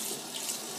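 Tap water running briefly into a sink to dampen a Real Techniques makeup sponge, a short steady hiss of flowing water, close and alone.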